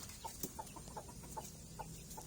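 Hens and black chicks on a farm give soft, repeated clucks and peeps in a loose rhythm, fairly faint, over low background noise.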